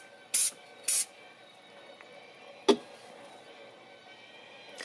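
Two short, sharp hissing bursts from an aerosol can of Krylon Triple-Thick Crystal Clear Glaze, sprayed close by in quick succession, followed by a faint click in a quiet room.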